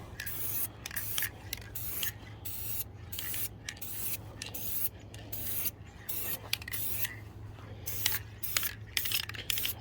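A rattlecan sprays paint onto a rifle in a camouflage pattern, giving a close series of short hissing bursts in a quick, irregular rhythm over a low steady hum.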